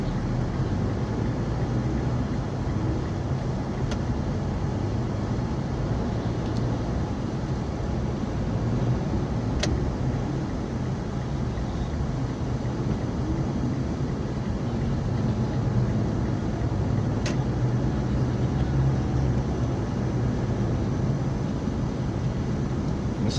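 A Mitsubishi Montero Sport SUV with large tires drives past on a road, a steady, loud broadband rumble of engine and tire noise that holds throughout, with a few faint sharp ticks.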